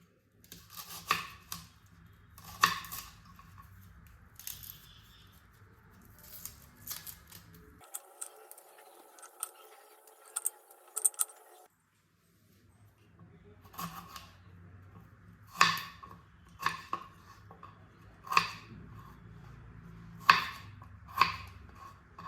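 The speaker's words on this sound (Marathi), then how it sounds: "अगोदर आपण हे टोमॅटो आणि कांदे मोठे मोठे कापून घ्यायचे आहेत" A knife chops green tomatoes and onions into large pieces, sharp distinct cutting clicks at irregular intervals, close and clear, with a quiet pause partway through.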